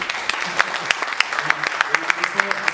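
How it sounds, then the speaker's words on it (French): Audience applause at a French business meetup honoring a young entrepreneur, with distinct individual claps spaced out over a clapping wash and some voices mixed in. "ça s'applaudit."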